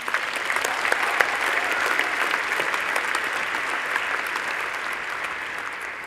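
A graduation ceremony audience for engineering graduates applauds, a dense, even wash of many hands clapping in a large hall that continues steadily throughout.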